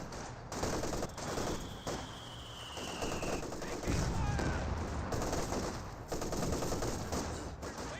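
A German 2 cm flak gun in Company of Heroes 2 pours out a rapid barrage of bursts amid battlefield din, loud and sustained, with faint commentary underneath.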